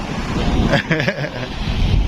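Sea waves and strong wind on a beach in San Jose, Camarines Sur: loud, blustery wind buffets the microphone over a continuous wash of surf, with no voices.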